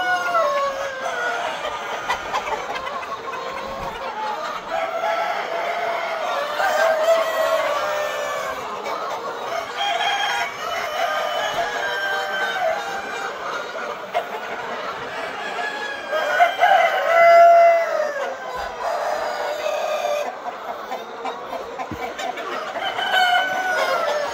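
A crowd of chickens, about 2000 laying Classic-breed pullets some 150 days old, clucks and chatters continuously, with a rooster crowing partway through; the flock sounds close and busy.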